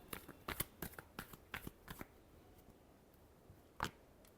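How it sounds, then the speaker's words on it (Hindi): Tarot cards are shuffled in a rapid run of crisp riffling flicks, then go quiet before one last sharp snap, close and alone. "Last shuffle."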